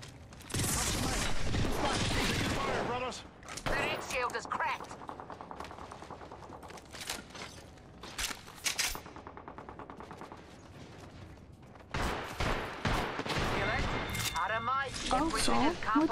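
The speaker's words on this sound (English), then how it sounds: "They're shooting at me again." Bursts of automatic gunfire in Apex Legends, loud clustered volleys at the start and again near the end, separated by quieter stretches of scattered shots and game sounds, with players talking over parts of it.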